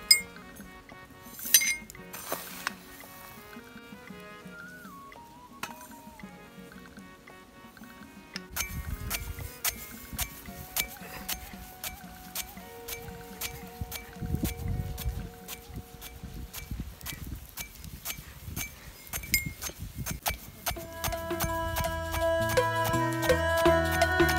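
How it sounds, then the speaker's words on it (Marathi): Roasted flaxseed pounded in a khalbatta mortar and pestle: sharp clinks and knocks early on, then a steadier run of repeated thumps and clatter that grows louder and denser toward the end, close by. "हे खलबत्यामध्ये आपल्याला हे कुटून घ्यायचं आहे"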